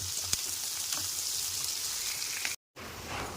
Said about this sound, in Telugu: చూడండి ఆనియన్ ఫ్రై అయిపోయాయి